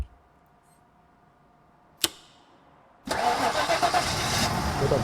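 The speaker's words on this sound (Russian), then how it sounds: "запускай мотор." A vehicle engine in RoboCop: Rogue City turns over after a quiet stretch broken by one sharp metallic click, then catches and runs as a loud, rough, pulsing idle.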